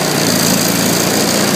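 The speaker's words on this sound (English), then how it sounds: "Once everything comes on, you'll hear the load on the engine again." A Zanotti 1400 power pack engine running under load while charging and cooling, a loud steady drone with constant mechanical hum close by.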